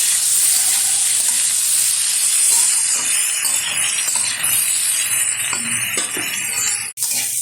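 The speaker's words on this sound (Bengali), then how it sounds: "বেশ কিছুক্ষণ তেলের সাথে ইঁচড় আর আলুটা নেড়ে চেড়ে নিয়েছি।" Jackfruit and potato pieces, pre-boiled with salt and turmeric, being stirred in hot oil in a pan: loud continuous sizzling with scraping and occasional clinks of the utensil, a sharp knock near the end.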